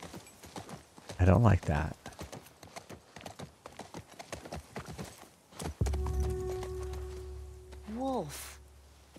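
Horse hooves clip-clop at a steady walking rhythm in The Last of Us Part II, running under frequent talk along with other game sounds.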